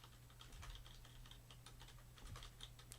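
Computer keyboard keys pressed in a steady run of soft, quick clicks over a low constant hum, fairly quiet and close, without any talking.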